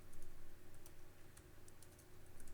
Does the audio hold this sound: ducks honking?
no